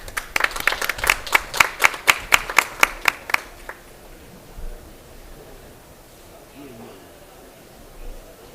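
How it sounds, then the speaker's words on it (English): At a COP26 Korea Pavilion session, audience members clap for a speaker: about a dozen sharp, evenly spaced hand claps over three seconds, then the room goes quiet with faint background noise. "Please welcome him with a big round of applause."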